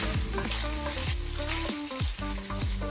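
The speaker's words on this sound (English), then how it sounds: "Heat up your pan and add your butter. Careful not to burn your butter. Now we add our garlic." Garlic frying in butter in a hot pan during a beef stir fry, a loud continuous sizzle close up with repeated crackling pops and spatters and no talk.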